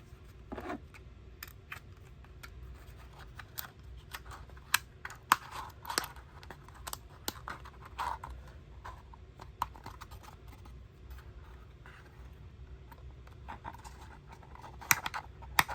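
Cardboard of a DX Capsem dropper switch kit being folded and forced by hand, giving close, scattered crinkles, creases and small taps over a low background hum, with no talking.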